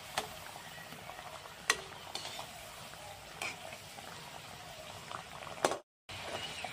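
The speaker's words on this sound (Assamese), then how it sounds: "এনেদৰে উলট পলট কৰি পিঠাকেইটা ভাজি লওঁ" Ghila pitha frying in hot oil, giving a soft continuous bubbling sizzle with a few sharp clinks as the cakes are turned. The sound is quiet and cuts out briefly near the end.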